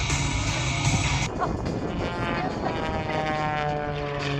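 Propeller aerobatic airplane at an outdoor air show, with the smoke system switched on as it pulls into a high G turn, a continuous engine drone and propeller whine held steady across the clip with a pitch shift early on.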